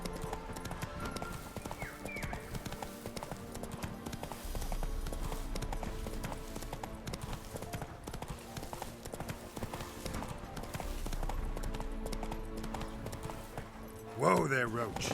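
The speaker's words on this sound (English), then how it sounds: "Whoa there, Roach" A horse gallops in The Witcher 3 video game, its rhythmic hoofbeats continuous and moderately loud over a game soundscape, with a brief louder burst near the end.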